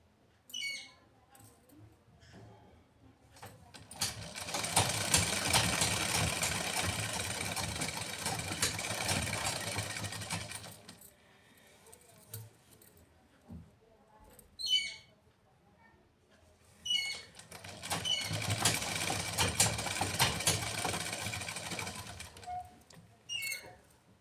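A sewing machine stitches around a salwar in two long, steady whirring runs, separated by a quieter pause filled with small mechanical clicks and handling sounds.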